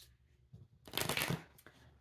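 A single brisk riffle of playing cards being shuffled, a dense crisp flutter lasting under a second, close by and fairly quiet.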